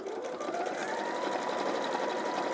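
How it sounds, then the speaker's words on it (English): A sewing machine stitches along the edge of a fabric quilting project, running steadily and close up without pause. "and then sewing along the next side"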